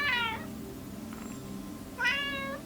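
A cat gives two clear meows, one at the start and another near the end, each short and rising, nearby over a quiet low hum.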